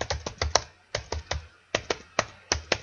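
Keys tapped on a computer keyboard while a Facebook post is typed, about a dozen quick close clicks in short irregular bursts with brief pauses between them.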